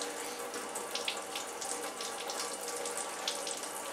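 Tap water runs steadily into a kitchen sink while brewing equipment is rinsed of sanitizer bubbles, a close, even splashing hiss with small bursts of spatter.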